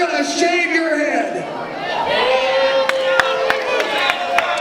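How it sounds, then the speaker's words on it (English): An unhappy crowd at a CCW wrestling show reacts with a steady, disgruntled roar that carries through the clip, while a ringside commentator talks over it. "Crowd not happy with that."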